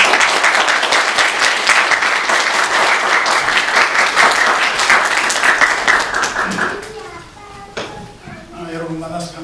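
A church congregation applauds to welcome a guest preacher at a Sunday worship service, a dense sustained wash of clapping that fades out after several seconds, followed by a few scattered claps and faint talk.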